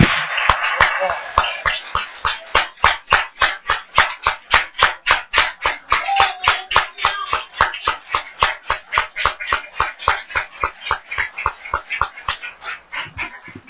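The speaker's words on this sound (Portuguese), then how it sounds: "Eu quero que você aplauda o Senhor Jesus por aquilo que Ele é." A church congregation claps in unison, giving a steady, even beat of sharp claps that carries on for many seconds, with voices faintly underneath.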